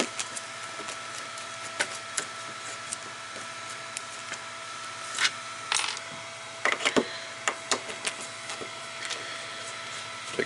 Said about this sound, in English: Take a bunch of screws out of this one.